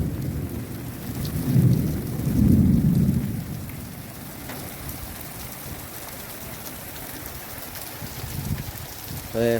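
Deep thunder rumbles roll twice near the start over steady rain falling on surfaces in Bagasara during a storm, then the downpour continues alone with a faint sound at the very end.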